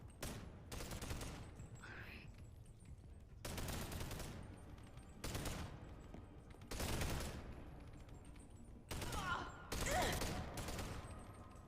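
Bursts of rapid gunfire from the virtual reality game BoneLab come in repeated loud volleys separated by short pauses, with a voice briefly speaking between them.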